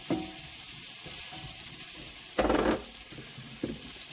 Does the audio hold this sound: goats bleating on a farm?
no